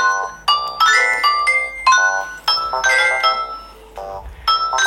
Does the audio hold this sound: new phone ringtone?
yes